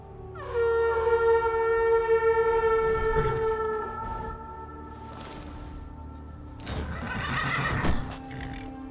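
Summoned horses in Skyrim whinny in long, loud, tonal neighs, followed by a burst of hoofbeats and another neigh, close and clear with no talk.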